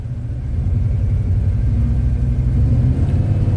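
A rebuilt Ford big block engine runs rich at a steady idle, giving a continuous loud, low rumble with no talk.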